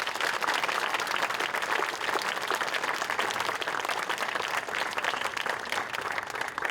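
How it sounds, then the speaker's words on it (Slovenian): Steady crowd applause at a municipal holiday ceremony in Kranjska Gora, Slovenia, a continuous even wash of many hands clapping, moderately distant and without speech. "pa vendarle aplavz si pa zaslužita"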